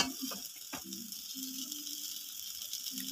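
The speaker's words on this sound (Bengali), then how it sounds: "এগুলোকে এখন সুন্দর করে ভেজে নেব" Colourful Maggi noodles fry in a pan with a constant bright sizzle, steady and moderately close, over a low humming drone, with a couple of small clicks near the start.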